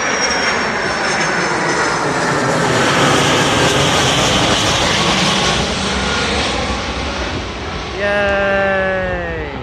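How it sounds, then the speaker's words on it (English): Jet2 Holidays Boeing 757 airliner on a go-around, its engines producing a loud, sustained roar that swells and holds throughout, with a rising whine near the end. "Jet2 Holidays 757."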